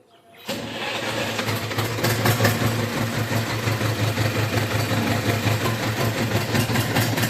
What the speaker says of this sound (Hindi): और ट्रैक्टर को स्टार्ट करते हैं।